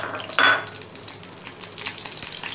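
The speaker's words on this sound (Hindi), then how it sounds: "अब मैं इसमें अनियन शामिल कर रही हूँ।" Chopped onions hit hot oil in a frying pan for an egg ghotala, giving a brief loud hiss at the start that settles into a steady, soft sizzle with faint stirring.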